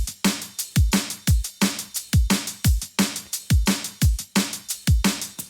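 A fast drum and bass beat with punchy kicks and snares, bright tambourine jingles filling the gaps in a steady, driving groove.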